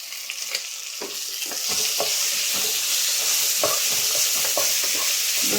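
Pasta sauce seasoned with oregano is stirred in a pan, giving a steady close sizzle with a run of soft scraping and stirring strokes, no voices.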